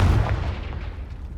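Confringo spell blast in Hogwarts Legacy, a single heavy booming burst at the start that rolls off into a fading rumble, loud and alone.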